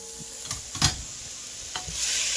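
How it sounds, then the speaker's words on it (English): Corn and peas being stirred into sizzling vegetables in a pot for a chicken pot pie, with a steady soft fry under a few short scraping strokes of the spoon, close and fairly quiet. "Now we're going to add our corn and peas. Stir that guy up."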